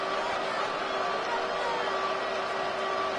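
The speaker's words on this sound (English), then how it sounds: "this crowd doing their best to make a lot of racket" A football stadium crowd sends up a steady, distant roar of broad noise with a faint sustained tone running through it, constant and undifferentiated across the whole span.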